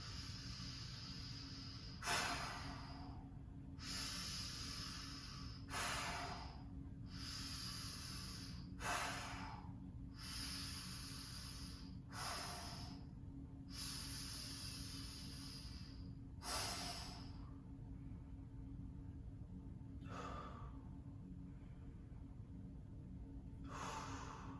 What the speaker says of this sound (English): You want to take a deep breath.